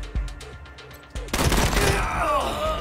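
In the video game Wasteland 3, a few sharp single shots give way to a heavy shotgun blast followed by a dense burst of gunfire and rumbling combat noise, loud and close.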